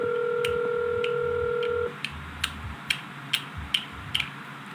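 A phone call rings out on the line: a steady two-tone dial tone holds for about two seconds, then stops, followed by a run of sharp, evenly spaced clicking ticks.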